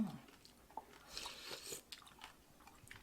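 Someone chews soft bones while eating, producing faint, close crunching and squishy bites in an irregular rhythm against a quiet background.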